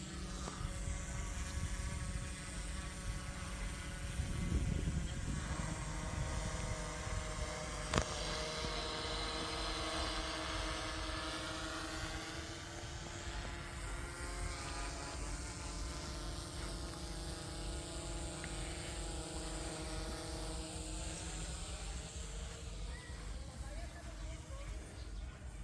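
A small drone's propellers whir in a steady, high-pitched buzz that fills the whole stretch, fairly loud and close, with people talking over it.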